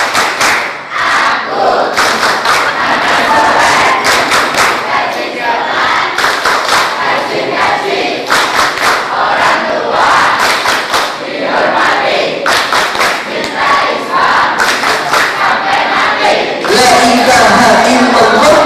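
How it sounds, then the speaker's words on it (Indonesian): Children at a TPQ seminar perform the 'tepuk anak soleh' clapping chant, a loud crowd of young voices shouting in unison with sharp, repeated rhythmic handclaps throughout. "Tepuk anak soleh."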